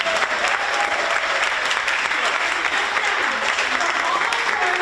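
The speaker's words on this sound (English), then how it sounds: "Give it guys a round of applause!" Loud, continuous applause from a crowd at a graduation ceremony, steady clapping filling the whole stretch with some cheering mixed in.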